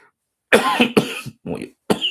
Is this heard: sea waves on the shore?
no